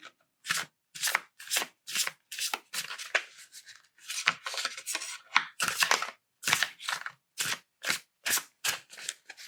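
Tarot cards are shuffled by hand in a quiet ASMR tarot reading: a long run of crisp, papery riffles and slaps, close and rhythmic, with brief pauses between bursts.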